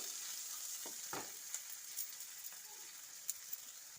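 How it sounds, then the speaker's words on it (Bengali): Onion, garlic and spices frying in oil, a soft continuous sizzle with a few light stirring clicks and scrapes, close but fairly quiet, no voices. "ভালো করে ভেজে নেব।"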